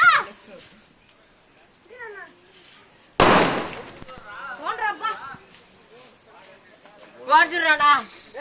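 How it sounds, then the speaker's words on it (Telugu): Firecrackers set off during a birthday celebration, with one sharp, loud burst midway cutting through otherwise quiet surroundings, while voices chatter before and after it. "మన వాళ్ళు టపాసులు కాలుస్తున్నారు."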